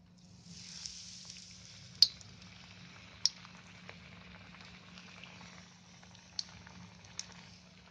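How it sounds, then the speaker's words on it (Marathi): Prawn kachori frying gently in hot oil, a faint, steady sizzle and bubble broken by a few sharp clinks of a utensil against the pan. "असे तळून काढायचे हलके हलके."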